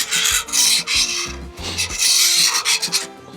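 A steady, loud rasping portable sawmill cutting through oak into 6x6 fence posts, with a brief dip in the grinding before it resumes at full strength.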